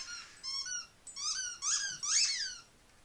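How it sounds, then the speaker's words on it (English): A dog whines and squeaks indoors in a string of high, wavering cries that rise and fall, several bursts in a row, close and fairly loud with no talk over it. "my dog normally isn't freaking jumping me"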